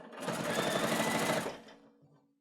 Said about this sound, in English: now we're just going to sew that across